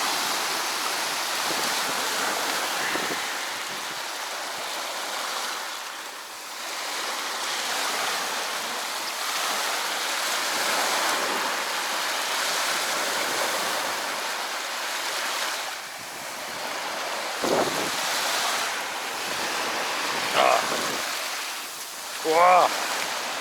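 Waves of the Barents Sea wash and hiss against the shore inside the Arctic Circle, a continuous broad surf mixed with wind buffeting; a voice speaks near the end.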